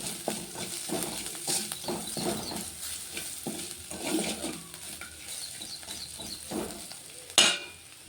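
Spices and salt fry in a pan under steady stirring, giving a continuous close sizzle with repeated scraping strokes and a sharp clink near the end; nobody speaks.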